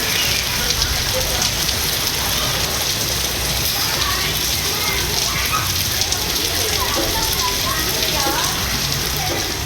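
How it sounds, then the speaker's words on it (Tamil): Rain falls steadily in a continuous dense hiss of drops striking surfaces, loud and unbroken throughout. "பரவலாக பெய்த மழையால் குளிர்ச்சியான சூழல் நிலவியது."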